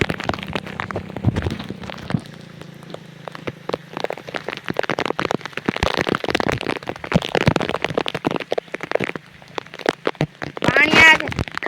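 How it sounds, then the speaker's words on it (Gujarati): Heavy monsoon rain pours down in Piparla, Gujarat, a dense steady patter spattering on surfaces and running water filling a pit, loud and close, with someone speaking over it at times. "આ વરસાદ પડે છે"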